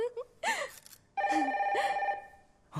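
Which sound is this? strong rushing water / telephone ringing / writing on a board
telephone ringing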